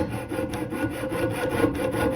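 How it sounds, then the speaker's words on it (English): A jeweler's saw cuts through metal in quick, steady back-and-forth rasping strokes, close and evenly paced, with no talking. "you are going to slowly move your metal as you're sawing"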